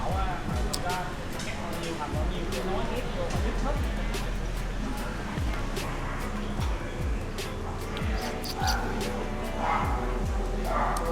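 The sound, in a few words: little dog barking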